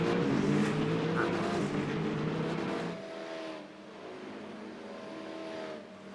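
Race cars roaring around a track in a racing video game, a loud, close pass with high revving that drops away midway to a steadier engine drone.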